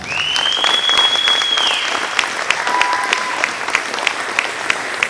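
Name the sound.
parents' applause at band concert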